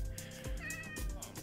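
Short meows from a black cat in Minecraft, two or three in a row, over a faint musical background.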